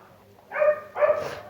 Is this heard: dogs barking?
yes